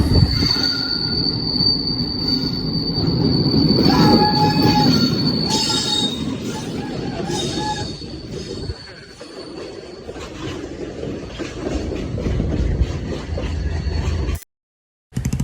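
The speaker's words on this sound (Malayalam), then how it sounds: "കൊല്ലം ജില്ലയിലെ ട്രെയിൻ വരുന്നുണ്ട് ട്രെയിൻ വരുന്ന കാഴ്ചകൾ കാണുന്നത് അടിപൊളി" A train rolls past close by in Kollam district, Kerala, its wheels letting out high, sustained metallic squeals over a deep rumble that fades toward the end.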